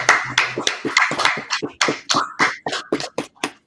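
Scattered claps from a small audience at the end of a scripture class, a quick run of sharp, irregular hand claps that are close and distinct, with short gaps between them.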